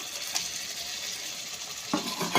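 Chicken and pre-fried potatoes stir-fried in a pan, a steady close sizzle with a few brief scraping clatters of a utensil toward the end.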